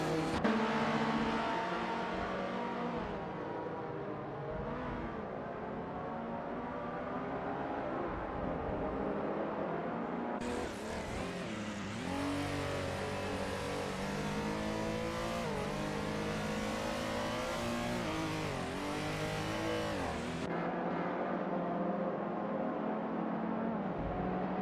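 A 1966 MG DGT V8 race car in a nonstop racing video game, its engine droning and revving steadily throughout as other cars run nearby, with a brighter, louder stretch of engine roar midway.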